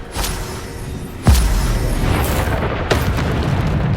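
Bombarda spell blasts in the Hogwarts Legacy video game, a sharp booming impact followed by a fainter second burst over a steady rumble of combat noise.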